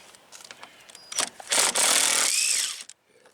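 A power driver fitted with a Torx bit backs out screws from an access panel on a Can-Am Spyder during an oil change: a few light clicks, then a loud whirring burst of about a second and a half that stops abruptly.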